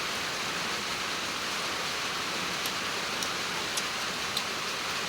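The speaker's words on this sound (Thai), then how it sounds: "ฝนตกมื้อนี้อากาศเย็น" Steady rain falls on a cool day, a dense even hiss with a few faint drips or ticks standing out near the end, no voices.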